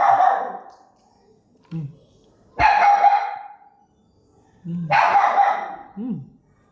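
A dog barks loudly in three separate bursts, each followed by a short yelp, with quiet pauses between, hungry.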